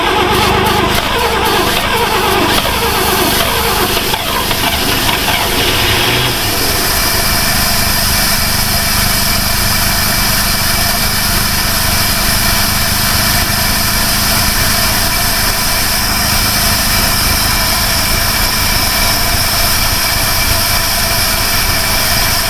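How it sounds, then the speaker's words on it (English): A 1960 Ford Falcon Ranchero engine, run on brake cleaner after sitting for 20 years, roars loudly and continuously. It sputters and crackles unevenly at first, then settles into a steady, harsh drone. "I'm just gonna run it on brake clean until she gets some heat."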